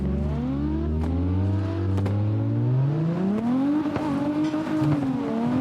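A race car engine revs hard and steadily in the driving game Wreckfest, its pitch rising and falling continuously and loudly up close, with no talk over it.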